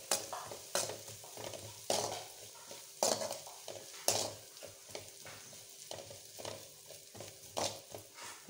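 Eggs already fried with pepper and salt being stirred in a frying pan, rhythmic scraping strokes over a soft steady sizzle, close and fairly quiet with no voices.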